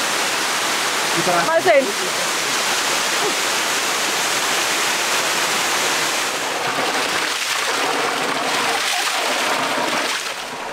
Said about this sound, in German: Nee, das war ja der 7. Wasserfall.